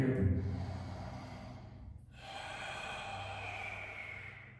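Audible breathing during a Hatha Yoga class pose, with long, airy inhales and exhales and a soft sighing quality, close and fairly quiet.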